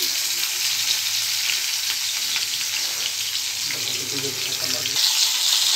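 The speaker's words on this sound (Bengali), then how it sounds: "আলুটা কড়াইতে দিতে গেছি" Potatoes hit hot oil in a karahi already holding fried crab and bay leaves, giving a steady, loud hiss and sizzle with faint stirring noises and no talking.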